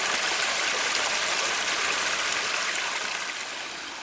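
Water from a small waterfall feature on a garden railroad layout rushes steadily and loudly, a dense continuous splashing wash that fades slightly toward the end.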